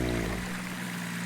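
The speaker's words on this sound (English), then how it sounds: "See, the sound of lovely water. It's worth coming down here just for the sounds. A babbling brook." Babbling brook water in Farming Simulator 19, a steady soft rush of flowing water running continuously throughout at moderate level, with no talk.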